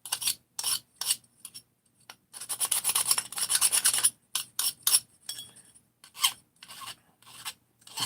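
Close, bright rasping strokes of a file deburring a chainsaw chain from a 660 kit, coming in irregular bursts of several quick passes with short pauses between, plus a longer steady run of filing in the middle.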